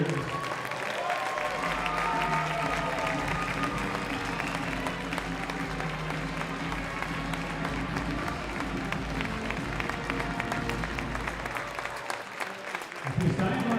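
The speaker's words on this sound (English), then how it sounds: "let us give one more round of applause to thank our seniors" Spectators at a high school varsity ice hockey game applaud loudly and without a break through a rink ceremony honoring seniors and their families, with crowd voices mixed into the clapping.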